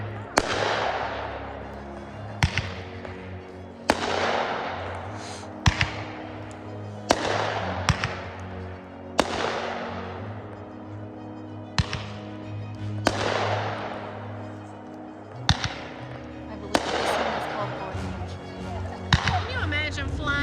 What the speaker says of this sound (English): see all the fireworks going off